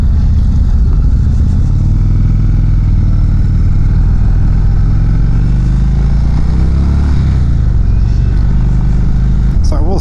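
A 2019 Indian Chieftain Dark Horse motorcycle runs on a test ride, its engine a steady low rumble that holds loud and close throughout with faint clatter, its pitch shifting slightly near the end.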